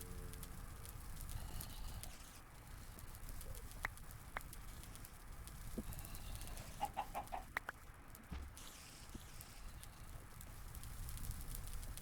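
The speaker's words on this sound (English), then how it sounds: "should I get a second chicken?" Chickens in the Minecraft video game give soft, scattered clucks over quiet background sound, with no talking.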